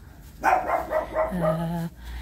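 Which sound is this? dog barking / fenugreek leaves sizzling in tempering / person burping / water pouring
dog barking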